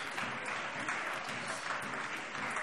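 Applause in a parliament plenary session, a dense steady burst of many hands clapping in a large chamber, uniform and continuous for a few seconds with no talk.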